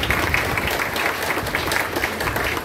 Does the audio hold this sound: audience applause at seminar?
yes